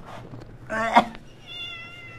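A cat gives one loud, close meow with a short rising wail, after a few soft, faint sounds and a quiet tone trailing behind.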